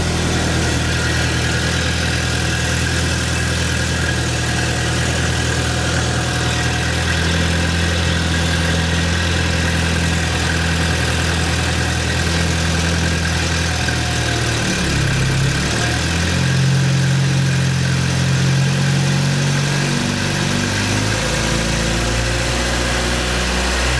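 A Peugeot 205 engine, from a car that had caught fire, idles steadily and loudly up close with a constant low droning hum, its rotation speed shifting audibly partway through before settling again.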